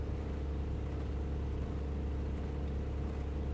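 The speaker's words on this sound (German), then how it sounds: "Ich habe ein Motor gehört." A steady aircraft engine drone from a flight simulator game, a Spitfire, holding a constant low rumble at a faint, even level with no speech.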